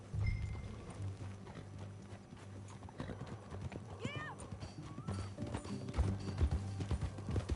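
Horse hooves clip-clop steadily in Red Dead Redemption 2 as a mount is ridden, with a brief whinny partway through and voices talking over the hoofbeats.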